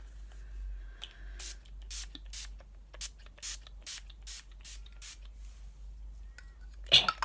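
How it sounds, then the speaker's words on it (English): Mecca Cosmetica Makeup Perfecting Mist setting spray released in a quick series of short, hissing mist bursts at a steady rhythm, close and fairly quiet over a low background hum, ending with a small clatter. "the setting spray I'm using today is the Mecca Cosmetica Makeup Perfecting Mist"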